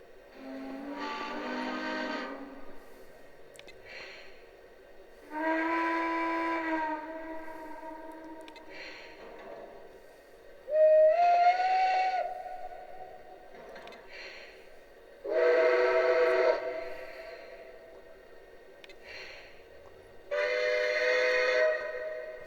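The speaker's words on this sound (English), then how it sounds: "Moving down to the whistle." A Lionel Legacy Atlantic 4-4-2 model train sounds its whistle in five separate blasts spaced a few seconds apart, each a chorded, breathy steam-whistle tone of about two seconds with quiet gaps between.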